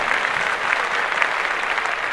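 Steady applause from a podcast studio audience, dense continuous clapping at an even level throughout, with faint voices mixed in.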